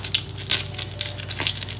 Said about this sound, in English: Melt butter in extra virgin olive oil on high heat.